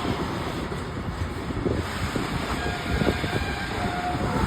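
A train at Tekirdağ railway station rumbles and rattles steadily over several seconds in a broad, noisy wash with some wind buffeting the microphone and no voices.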